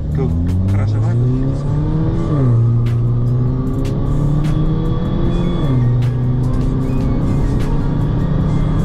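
A Mini Cooper S R56 with a stage 2 tune pulls hard from inside the cabin, the engine droning upward through the rev range with short drops at each gear shift, loud and steady.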